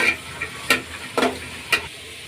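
Green peas and mixed vegetables such as carrot and beans crackle in a hot pan for tomato upma, with a low sizzle broken by three or four short scraping stirs, up close and without voices.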